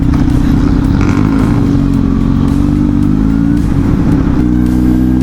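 A Kawasaki Z900 motorcycle cruising on an expressway, its engine droning loud and steady with a continuous low harmonic hum and slight pitch shifts as it holds speed, close up throughout with wind rush.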